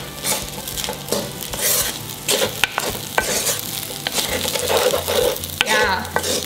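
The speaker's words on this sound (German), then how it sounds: "Okay, dann braten noch." Fried rice with pineapple, white pepper and soy sauce being stir-fried in a pan, loud steady sizzling with repeated scraping and clanking of a utensil against the pan throughout, no talking.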